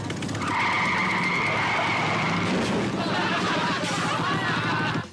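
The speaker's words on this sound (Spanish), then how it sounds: "el auto arrancó intempestivamente a una velocidad exacerbada" A car suddenly speeding off with its tires skidding, a sustained screech over engine roar that fades out after a few seconds.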